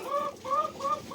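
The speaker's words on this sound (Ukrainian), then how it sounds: "Так, кури." Close, clear clucking from a hen, three or four rhythmic calls in quick succession.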